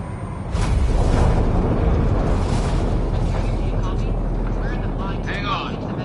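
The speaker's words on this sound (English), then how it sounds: "Initiating atmospheric entry." A spacecraft in Mass Effect: Andromeda entering a planet's atmosphere, a loud sudden roaring rumble with rushing buffeting noise that holds steady for several seconds, voices speaking over it.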